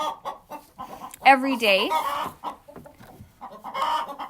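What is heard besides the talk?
chickens clucking in a chicken house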